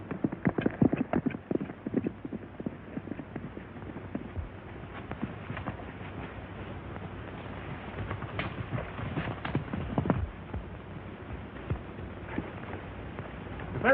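Many hooves thud in a quick, irregular clatter as several horses run, loud at first then settling into a steadier rumble.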